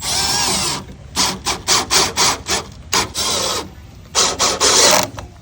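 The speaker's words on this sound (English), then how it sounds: "I have 2 more fasteners I need to attach" Rhythmic, loud scraping and rasping strokes come from work on fasteners at the threshold of an aluminum storefront glass door, in short bursts with brief pauses and no voices.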